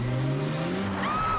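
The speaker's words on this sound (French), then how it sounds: "Une voiture!" A cartoon car speeds along the road with a rising engine whine that sweeps upward and ends in a high squealing tone, loud and close throughout.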